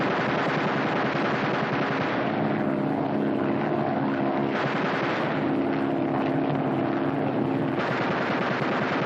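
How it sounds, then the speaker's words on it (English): Machine gun bursts fired from a plane during 1943 aerial gunnery training ring out over a steady, loud aircraft engine drone, with the gunfire sitting dense and close throughout. "Fire 3 bursts each in rotation."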